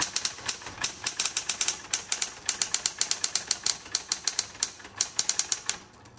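Rapid, steady clatter of keystrokes from a 1970s Smith Corona Electra 120 electric typewriter in metallic blue, each strike crisp and close, in a fast continuous typing rhythm with no voices.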